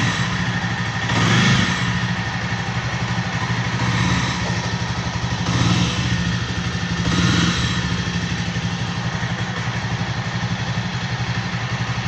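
A Jawa Classic motorcycle engine idles steadily and smoothly, a close, even mechanical putter with faint periodic swells roughly every one and a half seconds and no speech over it.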